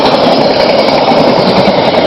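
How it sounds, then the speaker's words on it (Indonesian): A train rushes past at speed close to the track in Karawang, Indonesia, a loud, dense, continuous roar and rumble of rail cars filling the whole moment without a break. "Oh Tiffany, kalau Anda bisa lihat sebegini cepatnya kereta api,"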